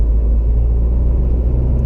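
A Seat Leon FR 2.0 TDI remapped to 201 bhp accelerates on a country road, its steady low engine and road rumble loud and continuous throughout, with no talking.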